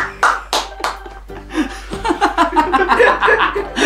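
Hands clap in bursts while people chuckle and laugh during a home pancake-art session; sharp claps open the clip, then laughter and quick chatter carry on close by.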